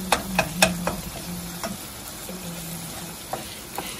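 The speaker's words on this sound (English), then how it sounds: "And then you just stir it up." Seasoned ground meat fries in a pan as a utensil stirs it, giving a soft sizzle with several sharp clicks and scrapes against the pan, most of them in the first second, close and clear, no talking.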